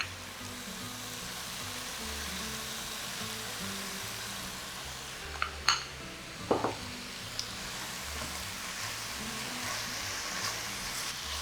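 Lamb browning in a cast iron pot for a lamb and pea stew: a steady, moderately quiet sizzle runs throughout, with a few sharp metallic clinks from stirring midway.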